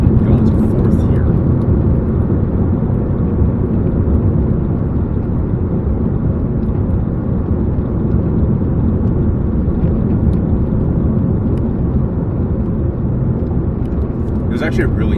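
A 2016 Dodge Dart SE driving, shifting into fourth gear: a constant loud drone of engine and road noise from inside the cabin, steady throughout with no clear break, while someone talks over it.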